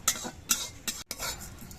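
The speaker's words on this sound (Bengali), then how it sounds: "এবার নেড়ে ছেড়ে এগুলো বেশ ভালো করে ভেজে নেব" Coriander and cumin seeds are stirred and dry-fried in a kadai, with a spoon scraping in several quick strokes against the metal, each stroke bringing a soft rustle and faint sizzle, close and without talk.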